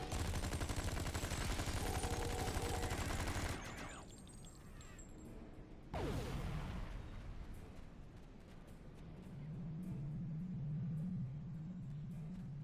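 Dense, loud gunfire in the Star Trek Online video game rattles in rapid bursts, breaks off, then returns with a sharp blast and continues over a low rumbling background, with no talk.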